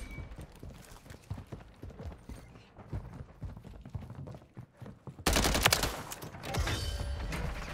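Rapid gunfire from a Striker submachine gun in Call of Duty: Modern Warfare III, rattling in repeated bursts that grow louder and denser toward the end, with little talk over it.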